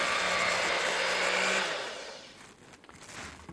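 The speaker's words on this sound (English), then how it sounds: "But today I'm going to use the hand mixer." An electric hand mixer beating spice cake batter, its steady high motor whir running loud for over a second before winding down and fading, with faint scraping and clatter afterward.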